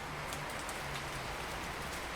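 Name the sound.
rain in video game 2064: Read Only Memories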